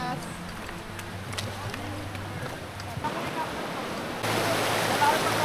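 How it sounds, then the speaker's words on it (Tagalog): Fast-flowing current of the Maples River in Pangasinan, a clear river, rushing as a steady broadband wash that swells louder near the end, with faint voices beneath. "Ilalakasan yung agos"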